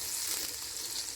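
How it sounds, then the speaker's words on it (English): Garlic sizzling in melted butter in a pan over medium-high heat, a bright, continuous frying hiss with fine crackles, close and steady. "melt some butter and then add some garlic"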